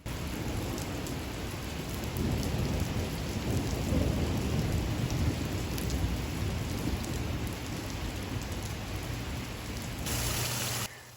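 Steady heavy rain pours throughout at a constant, close level with low rumbling thunder beneath it, all without speech, cutting off abruptly at the end.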